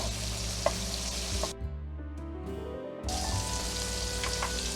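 Shrimp sizzle steadily in a hot pan right after being flipped, a close, dense frying hiss that dips briefly mid-way before resuming at full strength.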